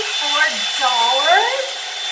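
A Revlon One-Step hair dryer and volumizer runs continuously up close and loudly, with a steady airy whoosh whose pitch bends and wavers as it moves through hair.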